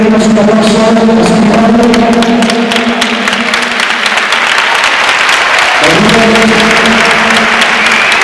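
Audience at a boxing event in Coruña applauds in a dense, steady wash of clapping over a sustained tonal background, loud and continuous, with no clear talk.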